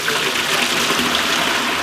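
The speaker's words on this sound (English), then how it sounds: "The cistern overflows when it gets too much water." Water overflowing from a full cistern, a steady close rushing gush of pouring water, broadband and constant with no pauses, heard alone.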